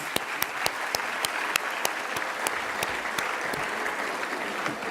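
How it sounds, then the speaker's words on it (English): An audience at a school annual day event applauds its performers, with dense, steady clapping and sharp individual claps standing out, at moderate volume throughout. "May we have a huge round of applause for our exuberant performers"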